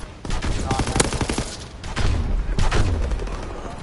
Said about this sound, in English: They fire on the infantry.